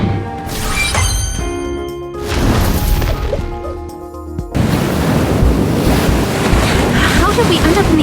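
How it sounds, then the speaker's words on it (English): Ocean waves and wind in a video game, a steady roar of surf and gusting air with crashing water, loud and continuous, swelling into a heavier wash midway. "How did we end up in the ocean?"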